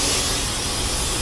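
Air suspension bags on a truck pulling an excavator lowbed trailer being dumped, giving a steady, loud, close hiss of escaping air that holds evenly throughout.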